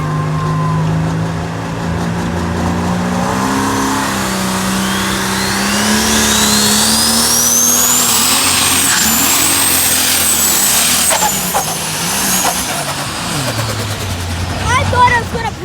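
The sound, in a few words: pulling tractor engine revving at a tractor pull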